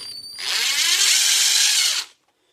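A power drill drives screws into a mounting for a home Tesla charger installation, a single steady high-pitched whir lasting under two seconds, close and loud, then stopping abruptly.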